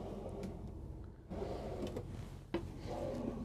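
A large soft-close drawer in a 2024 Newmar Essex 4551 motorhome eases shut, giving a couple of muted wooden thuds and slides, close by with no talk over it.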